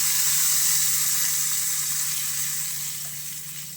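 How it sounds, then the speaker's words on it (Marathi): Asafoetida, curry leaves and mustard seeds sizzling in hot oil for tempering, a loud continuous crackling hiss up close that gradually eases toward the end, with no talking. "इथे हिंग कढीपत्ता आणि मोहरीची फोडणी करून घेतली"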